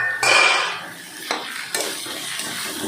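Potatoes and fried shrimp stirred with banana flower in a pan, with a burst of sizzle followed by a few clanks of a spatula against the metal pan, close by and with no talking.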